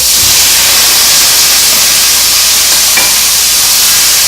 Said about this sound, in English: We're going to add our salt and the best part, the shrimp now.